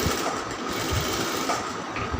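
A sewing machine stitches a round kameez sleeve, a steady fast mechanical whirring that runs continuously and fairly close, with no talking.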